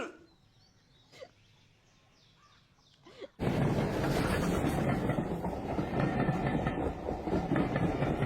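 A train rolls past at close range, with loud steady rumble and rattling clickety-clack that starts abruptly a few seconds in after a quieter stretch, then holds on to the end.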